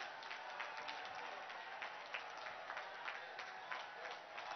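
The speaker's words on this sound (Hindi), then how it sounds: "अपनी जगह पे खड़े होके तालियों की गड़गड़ाहट के साथ में स्वागत करिए" A public-meeting crowd in Fatehpur, Uttar Pradesh claps for Prime Minister Modi, giving a steady, dense wash of applause that sounds distant and faint throughout.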